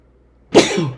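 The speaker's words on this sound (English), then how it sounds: "hang on, I'm gonna sneeze." A single sudden, explosive sneeze bursts out after a moment of quiet, loud and close.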